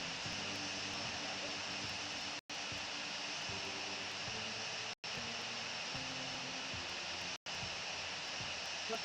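Airbus A380 jet engines taxiing in a flight simulator game, a steady, moderately loud engine drone with low tonal hum that cuts out briefly three times.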